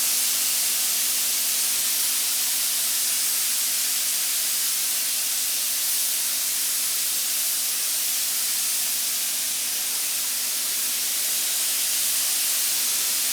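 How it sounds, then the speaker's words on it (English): A spray gun blowing only air over a rifle stock to dry a fresh base coat, a continuous close, loud, even hiss lasting the whole stretch with a faint steady hum beneath. "I'm just blowing air and drying the thing off, letting it cure."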